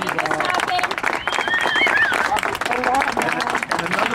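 A community audience applauds loudly and continuously, with whistles and cheers rising through the clapping and a murmur of voices underneath.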